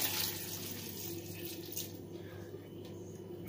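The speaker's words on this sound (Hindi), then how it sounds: "मैं भी इसमें 1 कप पानी ऐड कर रही हूँ" Water pours from a cup into meat cooking for bhuna gosht, a steady running splash that fades slightly over a few seconds, with no talk.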